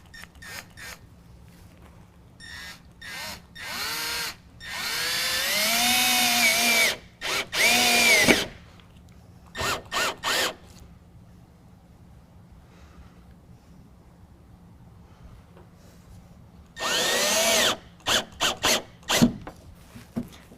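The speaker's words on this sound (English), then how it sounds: "we're going to drill through the canister into the canister bracket" A power drill drives self-tapping screws through a tonneau cover canister into its bracket on a 2019 Chevy/GMC 1500 pickup, whirring in short bursts and longer runs, pitch rising as it spins up, with quiet pauses between runs.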